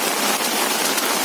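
Torrential rain in Airoli, Navi Mumbai, falling as a loud, unbroken roar of drops splashing on nearby surfaces, with water rushing underneath.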